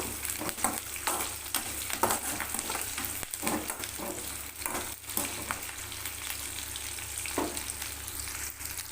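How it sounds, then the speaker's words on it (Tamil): Onions sauté in oil in a pan with a steady, close sizzle, broken by occasional scraping stirs of a spatula, with no voices over it. "வெங்காயம் கொஞ்சம் நல்லா வதங்கட்டும்"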